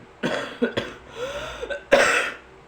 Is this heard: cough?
yes